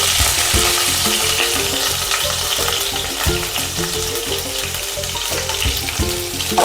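Garlic fries in hot oil with cumin and curry leaves as a spatula stirs the pan, a continuous loud sizzle broken by regular scraping strokes, with no voices.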